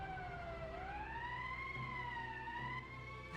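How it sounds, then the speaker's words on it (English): A wailing emergency siren in the video game Valkyria Chronicles, rising and falling steadily in pitch for several seconds, loud and continuous with no talking over it. "That's the emergency siren."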